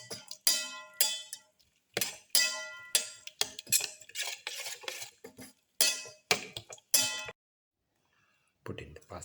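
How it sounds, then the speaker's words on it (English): Whisk or utensil clinks and scrapes against a bowl while black pepper is mixed into beaten eggs for a parsley omelette, coming in short repeated bursts with brief pauses, loud and close. "Thoroughly mix in the black pepper."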